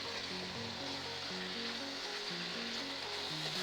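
Chicken with tomato, oregano, parsley and coriander is stirred in a pan, giving a soft continuous sizzle and hiss under a quiet melodic music line.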